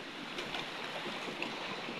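Water rushing and hissing through a pipe at a traditional village water mill (ghatta), a steady broadband roar that stays level throughout, with no one talking.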